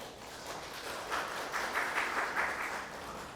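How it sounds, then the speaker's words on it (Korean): Audience applause welcoming a law firm's managing attorney to the stage for the first session of a seminar on M&A and license-out trends; steady, moderately faint clapping from a seated crowd, swelling slightly midway and continuing without talk. "큰 박수로 모시겠습니다."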